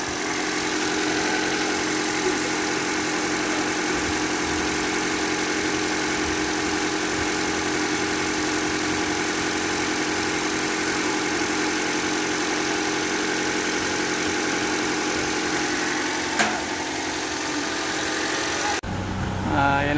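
A 2014 Toyota Altis engine idles steadily while warming up after an ignition coil and spark plug replacement, a constant close hum with a faint tick near the end before it cuts off.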